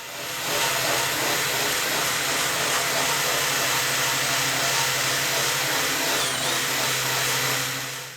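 A steady, harsh whirring grind of a drill spinning a wire brush against a painted aluminum jon boat runs continuously and loudly, with a brief dip near the end.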